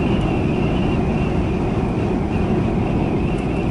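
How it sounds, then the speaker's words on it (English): Steady, strong wind roars continuously with a low rumbling buffet and a faint high hum, no voices. "You can hear the wind today, lots of wind."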